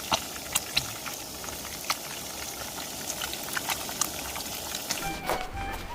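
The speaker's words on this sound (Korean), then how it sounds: "아 볼락도 뜨고 있는데요 네, 이것도 같이 튀기고 있습니다" Rockfish deep-frying in hot oil on an island fishing trip, giving a steady sizzling hiss with scattered sharp pops and crackles. It is moderately quiet, with no talk.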